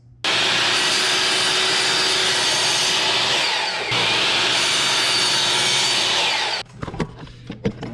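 Thin plywood is cut to length with a power tool, likely a saw, for a router box-joint desk organizer box. The loud, steady cutting runs for about six seconds with a brief dip partway through, then stops abruptly, leaving scattered handling clatter.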